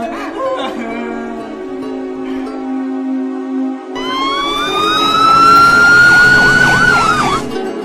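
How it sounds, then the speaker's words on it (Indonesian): A wailing police car siren sounds loud and steady, rising and falling in long sweeps over a low hum, swelling stronger partway through before it fades. "dari kejauhan terdengar suara sirine mobil polisi"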